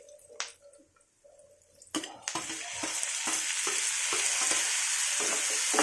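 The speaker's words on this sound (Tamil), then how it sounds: "தக்காளி கொஞ்சம் நல்லா வதங்கட்டும்." Tomatoes drop into a pan of sautéing onions, then a rising steady sizzle builds, broken by repeated spoon scrapes and clicks of stirring, close and without talk.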